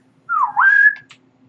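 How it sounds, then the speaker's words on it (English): A person whistles a short two-part call, sliding up into a sustained clear note, alone in a quiet space. "And he does a whistle."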